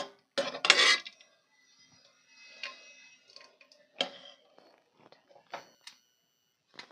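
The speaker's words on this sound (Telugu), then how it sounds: "నేను ఇలా గరిటెతోటి ఇలా అనుకుంటున్నాను" Cooked dal, with bachali greens, mashed in a pot with a ladle: scattered soft knocks and scraping clatters of metal on the pot, some louder at the start, with short gaps between.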